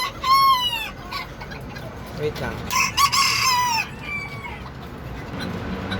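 Chickens clucking and a rooster crowing close by, with repeated bursts of clucks and calls; a person speaks briefly among them.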